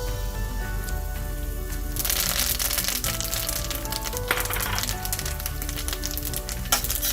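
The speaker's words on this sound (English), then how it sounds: "when the oil is hot, we're going to add the curry leaves. And careful, curry leaves always splutter" Curry leaves dropped into hot oil for spicy masala peanuts splutter and sizzle loudly, a sudden burst of crackling pops that settles into a steady, dense frying hiss with scattered sharp snaps.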